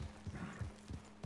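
Horse hooves clip-clop in an even, quick rhythm in the video game Red Dead Redemption 2, each step a soft dull thud, fairly close and moderately loud with no speech.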